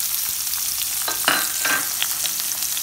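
Chopped onion sizzling in hot oil with mustard seeds, cumin and asafoetida, a steady crackling fry with a few louder spatters and stirring scrapes, no voices.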